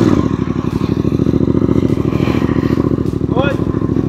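Off-road enduro motorcycle engine held at a steady high idle near 3,000 RPM, loud and close with a continuous throbbing drone, and a brief faint voice partway through.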